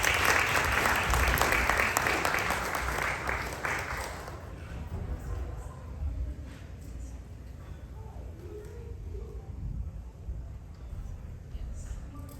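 An audience applauds to welcome Tina Schweickert, a dense wash of clapping that is loud at first and thins out after a few seconds into softer scattered claps.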